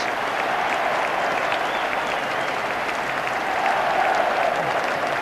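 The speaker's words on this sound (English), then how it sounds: "applauded by the losers" Sustained crowd applause at a stadium as the FA Cup is presented to Manchester United after the 1996 final against Liverpool, a broad, dense roar of clapping from a large crowd that holds steady throughout.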